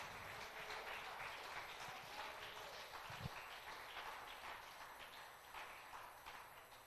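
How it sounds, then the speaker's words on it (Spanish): Church congregation applauding at a service, a steady dense patter of many hands sustained throughout at moderate distance with no talk over it. "Denle un fuerte aplauso al Señor."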